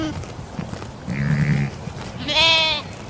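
Sheep raised for livestock in Kabo, about a hundred kilometres from Ouesso, give a short low bleat followed by a louder, higher wavering bleat, both fairly close over a quiet outdoor background.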